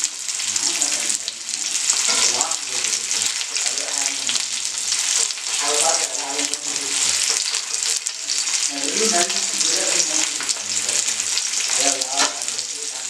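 Tuna fish fries in a pan with curry leaves, giving a steady loud sizzle and crackle of hot oil throughout. Faint stirring or movement sounds are heard underneath.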